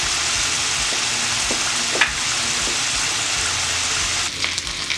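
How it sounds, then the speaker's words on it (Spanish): Sauce poured into hot oil in a frying pan for Venezuelan-style beef asadito, sizzling steadily and loudly with a bright, hissing crackle throughout, and a few soft clinks of utensils against the pan. "En un sartén pusimos aceite, vamos a agregar nuestra salsa."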